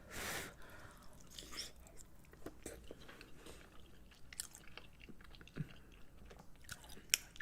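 Close, quiet chewing of vegan mac and cheese, with soft wet bites and mouth sounds in an irregular rhythm and occasional louder clicks.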